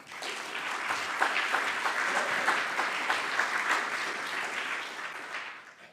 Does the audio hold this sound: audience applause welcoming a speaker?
yes